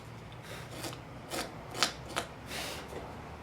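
Drilled hole in the lock pin of a bombe secretary's desk lid being cleaned out by hand, giving a series of short scraping, rasping strokes at close range over a low steady room hum, with no talking.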